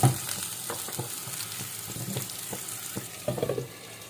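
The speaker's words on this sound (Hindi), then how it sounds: "फिश फ्राई हो गया है और इसी ऑयल में मैंने डाल दिया है आलू" Potato pieces fry in oil left over from frying fish, crackling and sizzling continuously up close, with soft clicks of stirring and a louder spattering flare toward the end.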